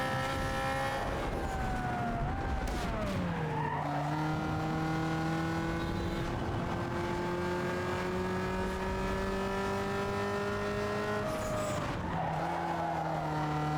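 Car in Need For Speed Underground 2 slides with a sustained, loud tire squeal over a steady engine drone, the engine pitch dipping and shifting through the drift.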